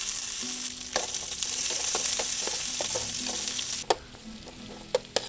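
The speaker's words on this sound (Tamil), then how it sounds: "இதை நல்லா கலந்து விட்டுக்கலாம்." Continuous sizzling of masala frying in a pan with curry leaves, with scattered scraping clinks of a spoon stirring, a few sharper knocks near the end.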